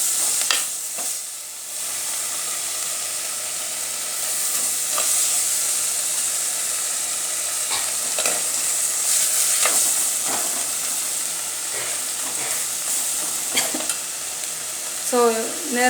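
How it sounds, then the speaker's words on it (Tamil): Tomatoes sauté in a clay pot as the base for fish curry, with a constant oily sizzle and repeated spoon scrapes and stirs, close by, a short squeak near the end. "தக்காளி கொஞ்சம் நல்லா வதங்கினா தான் நல்லாயிருக்கும்."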